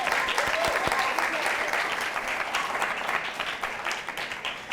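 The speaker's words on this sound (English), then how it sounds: "can we give another round of applause?" Studio audience at a talk show gives a round of applause, a full wash of clapping that starts strong with a few crisp claps up front, then gradually thins and fades.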